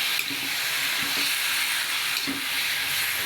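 Chicken pieces hit hot oil in a pan while afritada is being cooked, giving a loud, continuous sizzle and hiss with a few soft clunks of stirring.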